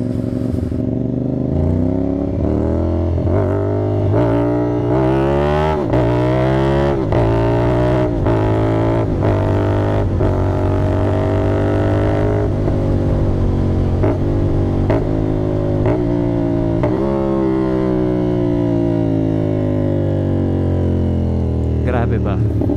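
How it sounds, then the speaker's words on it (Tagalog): A CFMOTO 450NK motorcycle with an SC Project exhaust and its catalytic converter removed revs hard and loud through repeated rising and falling sweeps, the engine note close and continuous for the whole stretch. "Enjoy nyo yung tunog ni 450NK guys."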